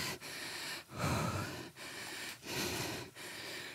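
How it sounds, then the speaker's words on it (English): Heavy, rhythmic breathing after hard cycling intervals on an indoor bike, with deep gasping inhales and exhales repeating roughly every second, close and loud, without speech. "Get your breath back."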